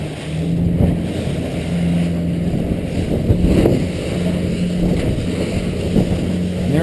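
A Weldcraft 220 Maverick aluminum boat running on the water, its engine droning steadily with a low hum beneath broadband wind and hull rush, loud and continuous throughout.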